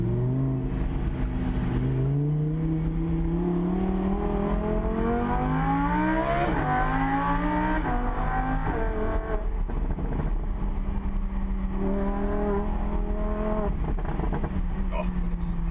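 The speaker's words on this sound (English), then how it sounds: "This with this exhaust is something quite exceptional." A 2015 Lamborghini Huracán LP610-4 with an aftermarket exhaust revs up and down loudly and close by, with rising and falling pitch sweeps, a deep roaring exhaust, and a voice speaking over it.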